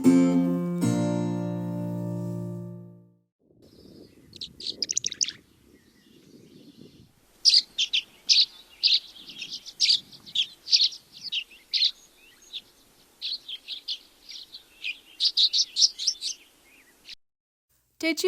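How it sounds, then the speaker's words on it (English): A tree swallow sings a series of bright, high twittering chirps in irregular bursts, faint to moderate and fairly close, following a short musical tone at the start. "Today's bird is a tree swallow."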